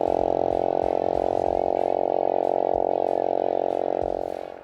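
A Ski-Doo Mach Z snowmobile engine races on a frozen lake, holding a loud, steady, high-revving drone throughout before easing off slightly at the end.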